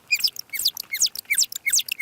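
Humpback whale song sped up fourteen times becomes a quick run of rising, chirp-like whistles repeated in a regular rhythm, clear and fairly loud against a quiet background.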